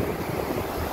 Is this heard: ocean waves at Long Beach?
yes